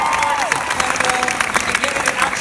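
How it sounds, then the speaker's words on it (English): Audience applause at San Diego Comic-Con 2017 during a Miraculous Ladybug panel, a steady wash of clapping and some cheering from a large crowd, with a few tonal squeals or whistles mixed in. "Please give him a big round of applause."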